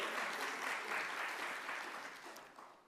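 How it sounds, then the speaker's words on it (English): Audience applause at a film festival industry conference session fills the room, a steady dense clapping that holds loud and then gradually thins toward the end, with no talking over it. "Oh, feel free to clap anytime."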